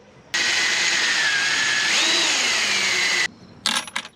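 A power drill whines steadily for about three seconds while drilling mounting holes during an Audi A4 B8/B8.5 turbo intercooler install, its pitch rising briefly mid-run, then stops and a few short bursts follow.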